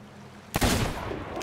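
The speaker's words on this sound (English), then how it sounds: "I hear cannon shots, so I wonder if they're taking on Flameheart." Cannon fire from pirate ships in a naval video game. A single sharp boom breaks into a quiet background, followed by a rumbling tail that trails on.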